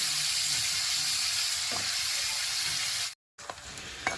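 Masala spice paste sizzles and hisses as it fries in oil, a steady bright crackle that runs throughout, broken by a brief silent gap near the end.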